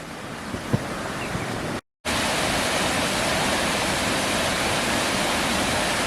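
Dense, constant roar of Rydes Falls waterfall in Mt Oxford Forest Park, loud and close, unchanging throughout apart from a brief cut to silence.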